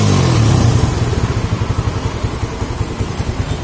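A Suzuki Satria FU motorcycle engine idles steadily up close, its low rhythmic putter holding an even pace throughout.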